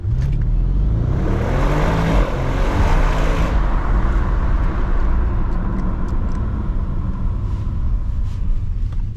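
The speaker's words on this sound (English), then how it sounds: "Let's floor it again" An Audi RS7 at full throttle on a night drive, its engine roaring loud and close in a continuous rising pull with deep rumble and whirring, steady across the whole stretch with no talk.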